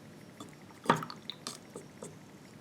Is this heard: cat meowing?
no